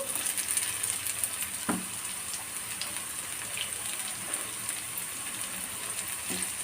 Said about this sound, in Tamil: இது எண்ணெயிலே கொஞ்சம் நல்லா வதங்கட்டும்